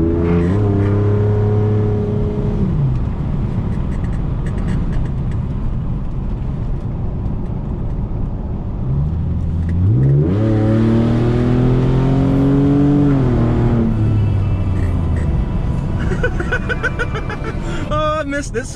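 Ford Sport Trac truck driving after a radiator fan conversion: steady engine drone with two revving accelerations rising and falling in pitch, heard from inside with talk over it.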